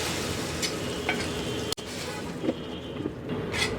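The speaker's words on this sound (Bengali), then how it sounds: "এনে এটাকে ডালের মধ্যে ঢেলে দিই।" Hot tempering sizzling in lentil dal cooked with coconut milk, a dense, steady hiss close up with a few faint clinks and stirring scrapes.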